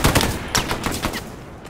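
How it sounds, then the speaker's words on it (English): Gunfire in Hell Let Loose comes as a quick series of sharp reports, several shots in under two seconds, loud and fairly close. "Oh, yeah, I'm getting shot at."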